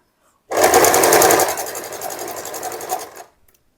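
Sewing machine stitching a puff sleeve, one loud close burst of rapid whirring stitches lasting about three seconds after a short silence, slowing slightly toward the end.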